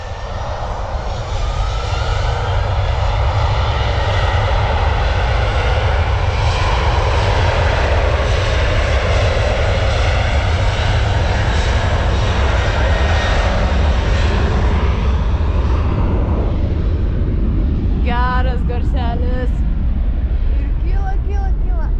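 A fixed-wing airplane passes overhead with a loud, steady engine roar that fills the whole stretch, barely changing in strength, while faint voices come through near the end.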